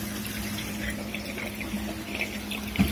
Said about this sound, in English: the constant gurgling and sucking noise that's coming from them is doing my head in